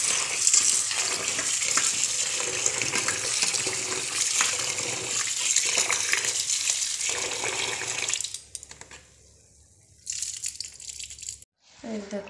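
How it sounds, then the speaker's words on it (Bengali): Uncooked rice being washed by hand in water, with steady sloshing, swishing and trickling that runs close for about eight seconds, then drops to quieter splashes and drips. "এই দেখো পরিষ্কার করে ধোয়া হয়ে গেছে চালগুলো"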